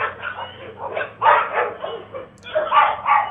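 Several dogs bark, yip and whimper in quick, overlapping bursts, fairly close and loud, with a brief lull near the end before the commotion resumes. They are stray dogs in a village lane, attacking an elderly woman.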